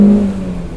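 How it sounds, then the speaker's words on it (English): Brief, steady engine drone from the twin-spark engine of a 1996 Alfa Romeo 916 Spider classic sports car, fairly loud and close, easing slightly partway through. "I love revving out classic cars like this one"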